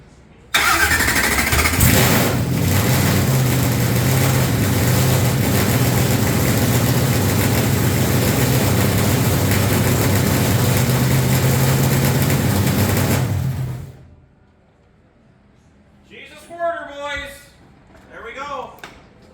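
A car engine at a burnout event fires up and holds a loud, rough, continuous idle at close range for about thirteen seconds, then cuts off abruptly, followed by people talking.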